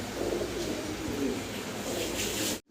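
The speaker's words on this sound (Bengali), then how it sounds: "ভিডিও স্ক্রিনে আমরা সিঙ্গেল এক পিস মুন্ডিয়ান কবুতর দেখাচ্ছি, সাদা বিশাল সাইজের" White Mundian pigeon of very large size, a fancy breed, cooing in low repeated throaty rolls that stay close and fairly loud, over steady background noise for nearly three seconds before cutting off abruptly.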